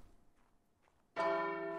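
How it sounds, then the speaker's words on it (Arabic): A bell in the video game Ark strikes once after a near-silent moment, then rings on as a loud, sustained metallic tone. "دقوا الساعة ودقوا الجرس"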